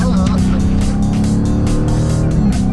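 A loud race car engine roars steadily at close range, its harmonic drone rising as it accelerates, with a faint voice underneath.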